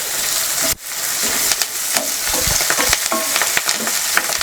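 Ginger garlic paste fries in hot oil in a pan, a loud, close sizzle punctuated by frequent stirring scrapes and taps, with one brief dip near the start.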